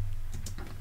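Computer keyboard keys tapped out while entering a Linux unmount command on a Raspberry Pi, a few quick close clicks over a steady low hum, no talking.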